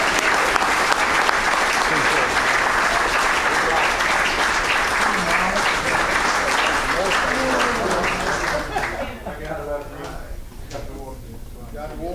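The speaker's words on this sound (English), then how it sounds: "Give them a round of applause and thank you." Audience at a spring awards banquet applauds, dense sustained clapping for about nine seconds that then thins out and fades to scattered claps.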